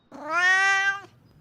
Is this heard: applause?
no